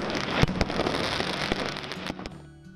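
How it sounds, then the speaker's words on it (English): Fireworks during a Sikh Prakash Parv festival celebration honoring Guru Gobind Singh: dense, continuous crackling and popping with several sharp loud bangs, fading into a quieter tail. "The holy occasion was wrapped up with colorful and sparkling multicolored light of fireworks."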